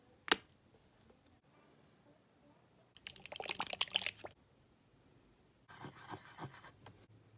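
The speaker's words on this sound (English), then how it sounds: "for now I'm just going to wash off my brush" A paintbrush is swished and rinsed in water in two bursts of liquid sloshing and clinking. Before them comes a sharp tap, and quiet pauses separate the bursts.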